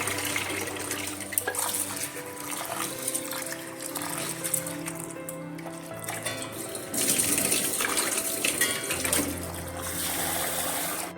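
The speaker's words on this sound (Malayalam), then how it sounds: "ഇനി നമുക്ക് ഉഴുന്ന് കഴുകിയെടുക്കാം" Running water pours steadily from a tap, splashing and swishing as urad dal is rinsed underneath, with the flow growing a little louder partway through.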